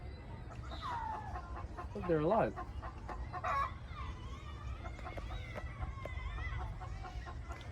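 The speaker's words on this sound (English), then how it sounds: "Chicken here, chicken." Farm chickens clucking and squawking nearby in a steady barnyard chorus, with one louder rising squawk, while people talk over them.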